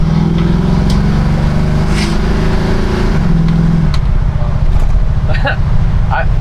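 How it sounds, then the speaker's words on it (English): A carbureted V8 in a 1968 Chevelle fitted with modern suspension, running loud and close with a steady low rumble and slight revving throughout, speech-like noise mixed in. "You still have a naturally aspirated, carbureted engine."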